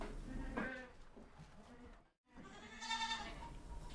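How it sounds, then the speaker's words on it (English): A goat bleats in two wavering, nasal calls separated by a brief silent gap, fairly faint and close, with no speech. "Goat."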